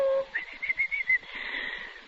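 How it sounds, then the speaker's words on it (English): Caged birds give a short run of thin, high chirps and warbling whistles close by over about two seconds, in a quiet room with no talking. "I wish I could get these birds to sing."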